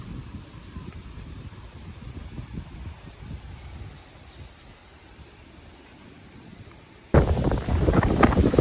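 Strong wind over an open wetland buffeting the microphone, a low roaring rumble that eases midway then bursts back louder and harsher near the end.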